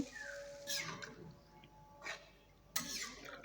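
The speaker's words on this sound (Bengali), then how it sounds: "পানি দিয়ে দিচ্ছি ফুলকপিতে" Water splashes onto cauliflower curry in a pan, three short pours gushing in separate bursts over a quiet background, close and soft.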